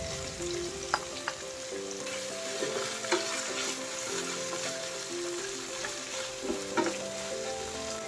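Small sliced carrots stir-fried with shrimp and bean sprouts in a pan, a soft steady sizzle broken by scattered clinks and scrapes of a utensil stirring, quiet and close.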